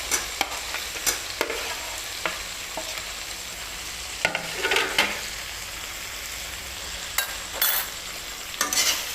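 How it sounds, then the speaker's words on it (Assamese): Mutton curry with fried potatoes being stirred in a pot, Assamese style: a steady sizzle under repeated close scraping strokes of a spoon against the pot, alone with no talk. "এয়া মই অকণমান লৰাই দিম।"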